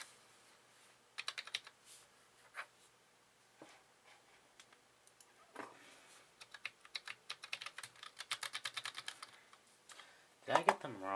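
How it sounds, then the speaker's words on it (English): Keys clatter on a Cherry G84-4400 compact keyboard with a built-in trackball, in quiet, irregular bursts of clicks that grow busier toward the end, finishing with a louder clack. "This keyboard is working"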